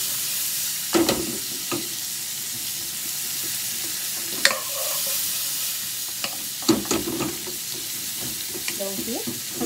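Onion frying on slow heat in a pan for Japanese-style spaghetti Napolitan gives a steady close sizzle and hiss, broken by a few louder stirring scrapes and clatters.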